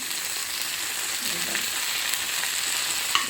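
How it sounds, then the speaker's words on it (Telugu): Fresh coriander with its stalks sizzles in hot oil in a pan, a steady close hiss of frying running throughout with one small pop near the end. "ఫ్రై అవ్వనిద్దాం. మొత్తం కాడలతో సహా వేసాను."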